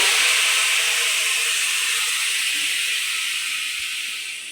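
A splash of water hits hot oil holding dry ground turmeric and chilli powder, giving a loud, steady hissing sizzle that slowly fades over several seconds, with no voices.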